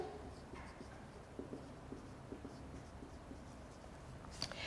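A marker squeaks and taps across a board during a lesson, a quiet run of short scratchy strokes in an irregular rhythm, with a sharper tap near the end.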